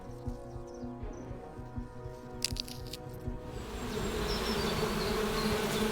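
Bees buzz in The Hand of Glory video game, starting as a lower droning hum with a few sharp cracks, then the swarm grows into a louder, fuller buzz in the last seconds.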